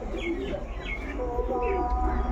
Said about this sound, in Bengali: প্রচুর কবুতর আছে